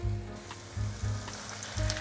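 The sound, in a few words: cabbage potato patties frying in hot oil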